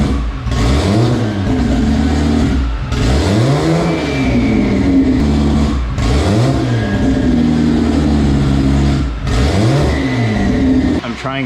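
A car being prepared for racing, with a fault being troubleshot, revs repeatedly at midnight. The engine rises and falls in loud, sweeping surges, with a voice talking faintly underneath.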